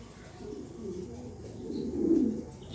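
Soft, low cooing of a racing pigeon nearby, a few rolling coos that swell louder toward the end, with faint background noise.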